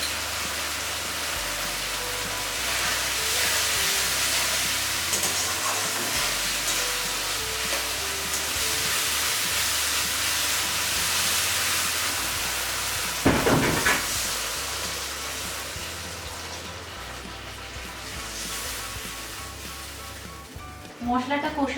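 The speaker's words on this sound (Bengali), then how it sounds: "ধনে, জিরে, আদা দিয়ে যে পেস্ট আমি তৈরি করেছিলাম সেটা দিয়ে হলুদ গুঁড়ো দিয়ে মশলাটা কষিয়ে নিচ্ছি" A spice paste of coriander, cumin and ginger with turmeric powder fries in a pan for a fish curry, giving a continuous close sizzle with occasional stirring scrapes and a voice speaking over it.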